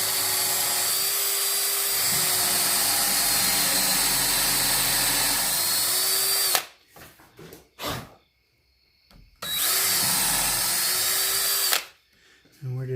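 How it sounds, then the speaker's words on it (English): A power drill drives a Stanley countersink bit into wood while building a rabbit hutch, a loud sustained whine lasting several seconds, a brief stop, then a second shorter run, alone and up close. "we're just using the standard Stanley countersink bit"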